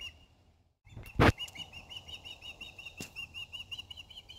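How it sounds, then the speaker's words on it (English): A juvenile eagle flaps its wings near its nest: a sharp burst of wingbeats after a quiet start, then quieter rustling, with a faint repeating bird call in the background. "Oh yeah, that's an eagle."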